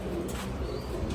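Chuina pigeons in a loft coo softly and continuously, close by, with no talking.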